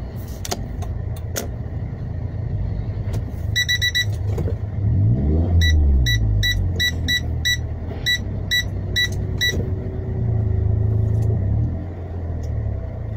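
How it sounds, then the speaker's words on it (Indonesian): A car driving along a narrow residential road, its steady engine rumble and road noise continuous and close, with a brief rise in revs midway and a repeated faint high chiming over it. "saya ngalah dulu, ada mobil di depan."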